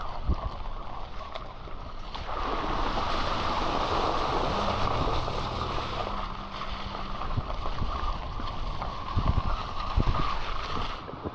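A creek flowing somewhere out of sight near a large forest campsite in the Pacific Northwest, a steady rushing hiss that swells slightly and carries on alone with a few soft thumps.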